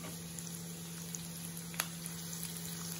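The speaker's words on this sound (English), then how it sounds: "Fry it until the onions become golden brown and it is very crispy" Sliced onions frying in hot oil, a steady close hiss of sizzling with faint crackles and one sharp pop, no voices.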